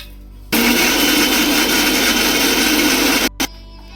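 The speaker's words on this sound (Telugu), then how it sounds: "దోరగా వేగిన తర్వాత అయితే మిక్సర్కి వేసుకుంటున్నాం" A kitchen mixer grinder whirs loudly for about three seconds, grinding roasted chana dal, coconut, cumin and sesame for a village-style stuffed brinjal curry, then cuts off and gives one brief final pulse.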